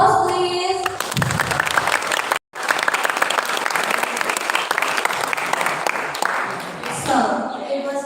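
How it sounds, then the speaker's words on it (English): An audience at a school event applauds after a class dance performance, with dense, steady clapping that breaks off briefly and then resumes, and voices cheering and talking over it toward the end. "Give them applause, please."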